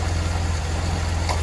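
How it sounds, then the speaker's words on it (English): Car engine idling with the AC compressor clutch engaged and spinning, a steady low droning hum with a faint whirring layer, close and continuous. "I'm going to plug the AC clutch relay back in and you're going to see it turn on and start spinning."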